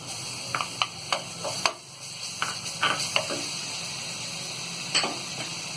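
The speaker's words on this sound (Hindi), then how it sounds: "अब इसमें हम ये अदरक और लहसुन का पेस्ट डाल देंगे।" Ginger garlic paste frying with onions in a kadai for kadai paneer, a faint sizzle under a series of sharp spatula clicks and scrapes against the pan, close and intermittent.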